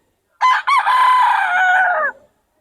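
A young rooster (stag) at a farm gives one loud, close crow lasting about two seconds. It opens with a short break and holds a strained note that trails off, with no voices over it.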